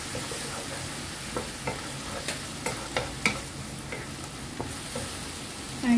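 Eggplant and mushroom stir-frying in a pan with garlic, a steady soft sizzle broken by irregular scrapes and taps of the spatula, fairly close and without speech.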